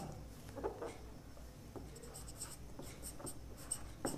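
Pen writing answers on paper, faint close scratching strokes in short irregular bursts against quiet room noise, with no speech.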